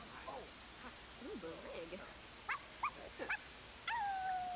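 Puppies in The Sims 4 video game whimper and yip in short, thin cries, with a few brief sharper squeals and a longer steady whine near the end, over a faint background hum.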